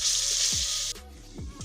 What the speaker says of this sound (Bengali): এটাকে ঘুরিয়ে ঘুরিয়ে এরকম করে ভাজতে হবে।